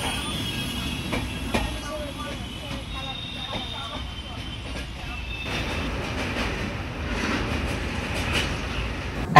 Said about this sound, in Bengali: রাতের অন্ধকারে ট্রেন আস্তে আস্তে তার স্পিড বাড়াতে থাকলো